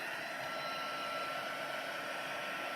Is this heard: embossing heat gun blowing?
yes